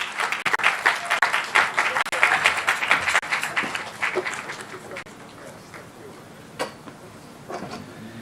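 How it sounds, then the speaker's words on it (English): Audience applause for a historian at a Bahamian rake-and-scrape cultural event, dense clapping that swells loud for a few seconds, then thins out into scattered claps and fades. "Please give him a round of applause."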